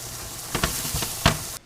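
Onions frying in a pan, a low steady sizzle broken by a few quick scrapes or knocks of a utensil, close up and without any talk.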